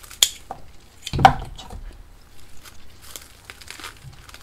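Blackened, rotted leaves cut from a Platycerium ridleyi staghorn fern, heard as a few close crisp snips and crinkling rustles of dry foliage, with one louder crunch followed by softer handling sounds.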